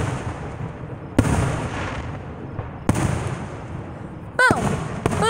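Fireworks explode outdoors on the night of July 3rd with three loud, sharp booms spaced over a few seconds, each followed by a crackling decay, with a voice calling out near the end.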